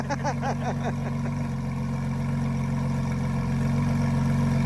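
A car fitted with a performance exhaust idles close by, a steady low rumble, with a few faint bird chirps in the first second and a slight swell in engine volume toward the end.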